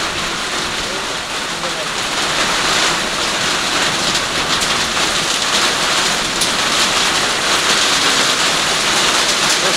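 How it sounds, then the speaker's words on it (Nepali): Rain falls hard and continuously during a windy storm in Kailali, Nepal, making a thick, close roar of drops on surfaces that never lets up. "वर्षा भइरहेछ।"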